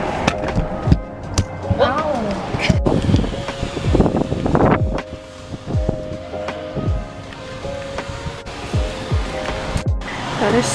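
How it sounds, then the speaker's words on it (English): Strong, warm outdoor wind buffets the microphone in heavy, uneven low rumbles and gusts, with voices talking through it. "It's so windy."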